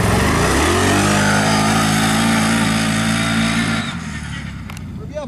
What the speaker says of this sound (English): Listen to that V-twin motor, man, on a four-wheeler, 1000 cc's.